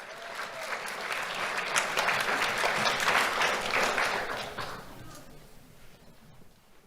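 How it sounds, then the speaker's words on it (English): Audience applause at a school awards ceremony, a steady wash of clapping that swells, holds for several seconds and then tapers away. "Let's have a round of applause for Adrian."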